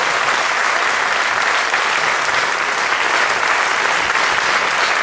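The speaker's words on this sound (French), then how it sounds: "Je vous demanderai de les raccompagner avec un tonnerre d'applaudissements." A theatre audience applauds steadily at a French poetry event at its final public performance, a dense, continuous wash of many hands clapping at close range that holds evenly for the whole stretch.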